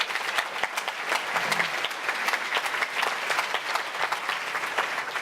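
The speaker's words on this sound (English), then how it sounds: "so another round of applause for her." Audience at a cultural diversity awards evening applauding, steady full clapping from a crowd sustained for about five seconds without a break.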